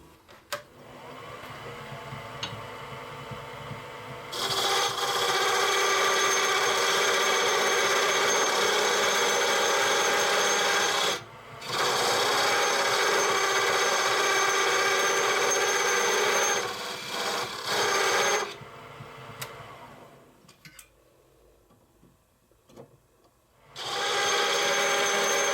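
Wood spinning on a lathe being turned down to a smaller diameter at the end, a steady loud whirring drone that drops out briefly a few times and fades near the end before picking up again.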